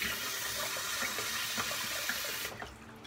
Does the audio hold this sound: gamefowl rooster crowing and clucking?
no